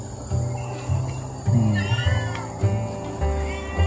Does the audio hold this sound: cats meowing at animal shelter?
yes